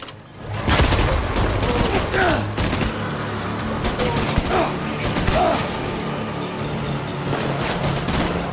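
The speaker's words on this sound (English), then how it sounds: "Enemy fire." Enemy gunfire in Death Stranding crackles in sustained volleys of overlapping shots and mechanical clatter, loud and continuous across the whole stretch, with occasional shouted voices mixed in.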